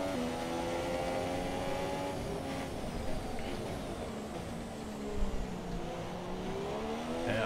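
Mercedes-powered Formula 1 car engine in the racing game F1 2017, a steady high-pitched whine with rising and falling pitch as the revs shift, continuous and fairly faint.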